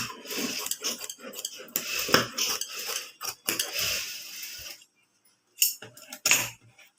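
Scissors cut blouse fabric for the back piece of a prince-cut blouse, a close, busy run of crisp metallic snips and rustles that stops briefly before a few final cuts.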